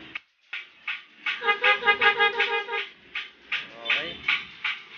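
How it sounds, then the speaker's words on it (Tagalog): A Kawasaki Ninja 250 motorcycle fitted with a loud horn blasts a rapid string of close, pulsing honks, some joined into longer bursts. "Loud horn."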